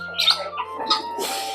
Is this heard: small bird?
yes